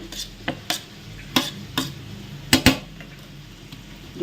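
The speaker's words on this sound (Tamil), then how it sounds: "தனி மிளகாத்தூள் போட்டு நல்லா மிக்ஸ் பண்ணி விடலாம்." Prawns are tossed with chili powder in a bowl, with a handful of sharp utensil clinks and scrapes against the dish, spaced irregularly and fairly close, over a quiet background.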